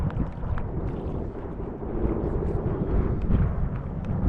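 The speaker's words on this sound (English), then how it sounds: "This wind's getting colder too." Cold early-spring wind blows across an open bass fishing boat in South Jersey, a steady, loud, rumbling buffet with gusts that swell toward the end; no one speaks.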